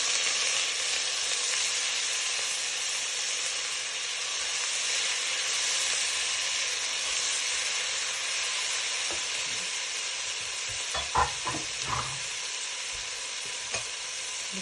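Chopped ginger and garlic fry in a pan until browned, a base for paneer and vegetable dum biryani, giving a steady, close, even sizzle throughout, with a few brief stirring clinks near the end.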